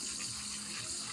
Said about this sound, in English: You're going to wet them down.